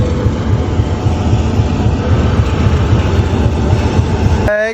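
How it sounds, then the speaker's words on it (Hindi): At Rawalpindi railway station a train rumbles loudly and continuously, a dense low drone that holds steady before cutting off abruptly at the end. "रेलवे स्टेशन में पहुँच गए हैं। ये जी रावलपिंडी का रेलवे स्टेशन चेक करें। चलते हैं, हमारी ट्रेन भी आने वाली है।"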